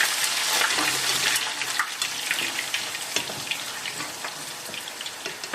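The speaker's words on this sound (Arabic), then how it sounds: "دلوقتي هنبدأ نحط البطاطس بتاعتنا." Potatoes sizzle steadily in hot oil while crispy hawawshi is being made. The dense, crackling frying noise is close and fairly loud, with no talking over it.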